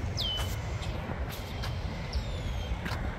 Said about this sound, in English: Is that a red-winged blackbird making that sound?